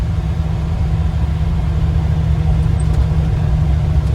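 A vehicle fresh from an axle swap drives at about 1,800 RPM in third gear near 30 mph, its engine and road noise forming a loud, steady low drone heard from inside the cab.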